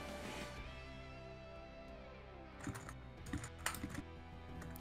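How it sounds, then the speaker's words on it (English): Steady typing on a computer keyboard, with key clicks at a modest level over a background of synthesized game music that has a faint melodic tone, and a denser burst of keystrokes in the second half. "I apologize if you can hear me typing."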